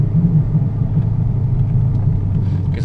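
Procharged Dodge Challenger R/T engine idling low and steady while parking, a loud close rumble with a deep constant drone.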